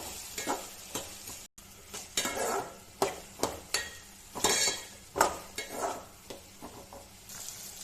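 Mango pieces fry in oil with mustard seeds, a close crackling sizzle layered with repeated scraping and clinking of a spoon stirring against the pan in an uneven rhythm.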